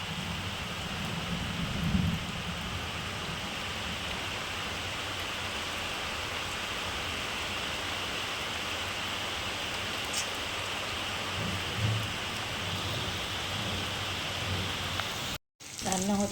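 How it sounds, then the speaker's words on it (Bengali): A heavy rainstorm with wind outside a rented home: dense, steady rain hisses continuously with a low rumble of thunder and gusting underneath, a brief dropout near the end, and faint voice traces at moments. "প্রচুর হাওয়া দিচ্ছে আর ঝড় বৃষ্টি হচ্ছে।"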